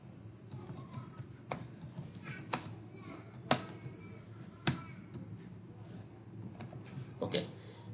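Typing on a computer keyboard during an office software session, a run of light close key clicks with several sharper, louder keystrokes spaced through, under quiet room tone.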